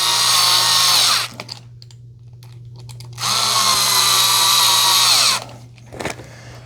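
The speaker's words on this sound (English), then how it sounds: "we're going to screw them into that plastic" A power drill drives screws into the plastic parts of a garden sweeper during assembly, two loud, steady whirring bursts a couple of seconds each with a brief blip afterward, close up and without speech.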